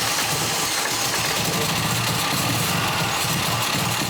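A rough 1970s MGB barn-find engine idles and misfires, a steady loud mechanical rumble with an uneven, stumbling beat running throughout, close by with no talking.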